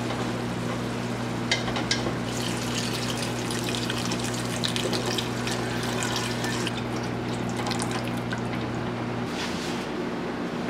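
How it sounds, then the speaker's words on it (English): Water and vegetable broth poured into a pot holding onions, carrots and celery on a stovetop, a steady close splashing and gurgling over a constant low hum for about nine seconds. "And then I'm gonna add in some water and vegetable"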